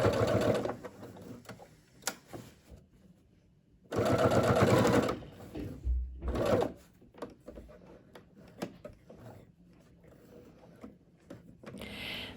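A home sewing machine stitches the fabric of a tote bag in several bursts of fast, steady running, with short pauses between runs where the fabric is pivoted, close and clear.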